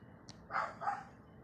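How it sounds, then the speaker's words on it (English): A neighbor's dog barks twice in the distance, two muffled mid-pitched woofs about a third of a second apart, faint against a quiet indoor background. "That's a neighbor's dog."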